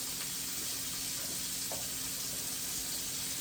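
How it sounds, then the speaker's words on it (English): Grits are stirred in a pot on the stove, a constant hissing simmer with a couple of faint spoon scrapes, steady and close, with no voices. "I have about a cup here of grits. And I'm just going to give that a nice good stir"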